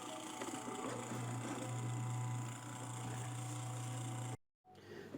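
An old Mallory electric fan with a heavy blade and a worn bushing runs with a steady motor hum and an added buzzing rattle from inside, close and quiet, then cuts off abruptly near the end.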